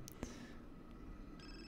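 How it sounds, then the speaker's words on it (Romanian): Phone ringing in The Sims 4, a short electronic ring tone that stands alone at low volume over quiet game ambience. "Sună telefonul."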